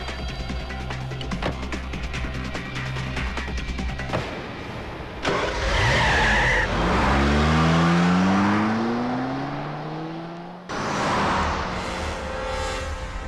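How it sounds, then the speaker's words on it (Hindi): A car in a Hindi film scene starts and speeds off, its engine revving loud with rising pitch sweeps as it accelerates away, with abrupt cuts between shots and no clear tire skid. "तू चला, चल गाड़ी चला।"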